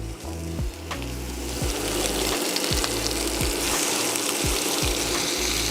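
Beef short ribs browning in a pan on an induction cooktop, a steady broadband sizzle running throughout with regular low thumps or pulses, loud and close, with no talking.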